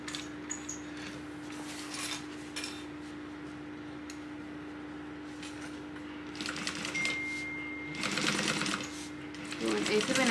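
A sewing machine stitches a tote bag seam in short, rhythmic bursts that grow louder near the end, with a steady hum beneath and a person talking over it.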